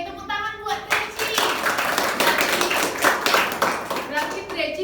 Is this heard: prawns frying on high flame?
no